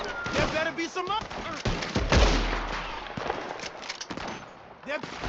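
Gunfire in Red Dead Redemption 2: repeated sharp shots and bursts of rapid fire, one heavy booming blast near the middle, mixed with voices talking throughout.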